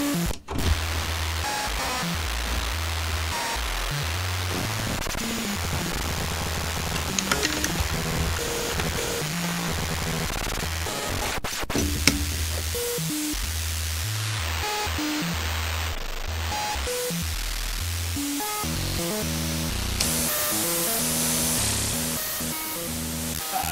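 Schlappi Engineering Interstellar Radio synth module churning out dense, loud, continuous electronic noise: pulsing low tones, warbling bursts, static hiss and a brief whistle-like tone, with no talking throughout.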